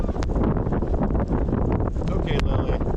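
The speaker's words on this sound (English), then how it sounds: "So there's pretty strong wind too, which kind of sucks. It's a side wind." Strong side wind buffets the microphone outdoors near sand dunes at the King of the Hammers off-road event, making a steady, loud roaring rumble that fills the whole stretch.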